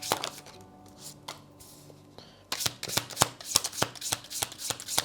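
A tarot deck being shuffled up close, a quiet start with a few taps, then a rapid run of crisp card slaps and riffles growing louder toward the end.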